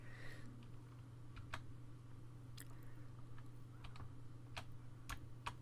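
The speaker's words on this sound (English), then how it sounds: "to do that I strike my D key on my" Computer keyboard keys struck in a quiet room, a sparse scatter of faint, sharp clicks at irregular intervals over a low steady hum, no voices.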